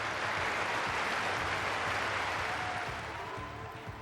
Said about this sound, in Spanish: Los aplausos fueron para ella, también para los otros sanitarios que estaban en el encuentro